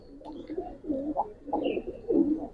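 A pair of pigeons for sale coo in soft, bubbling phrases that rise and fall, close and fairly quiet, with no voices.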